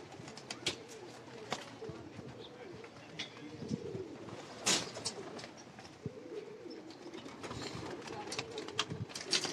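Pigeons on a rooftop coo softly in low, rolling calls, with scattered chirps and wingy rustles around them at a moderate distance.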